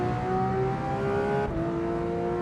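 A car engine runs close by with a steady droning hum that shifts slightly lower in pitch partway through, with no talking, during a track day.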